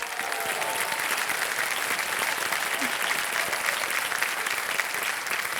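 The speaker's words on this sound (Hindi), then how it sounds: "जोरदार तालियां हो जाए पुलकित के लिए एक बार।" A studio audience on a televised quiz show gives dense, sustained applause for a young contestant, a continuous even wash of clapping heard alone from start to finish.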